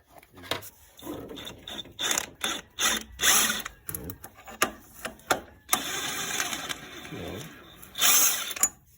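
A ratchet wrench removes bolts from a car oil pan, clicking in quick bursts with pauses between them. Occasional metallic knocks and handling noises come through close by.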